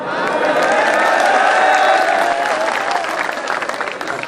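An audience claps together at an alumni reunion and spring cultural festival, a dense, sustained round of applause that swells and then slowly thins, with a little crowd noise mixed in.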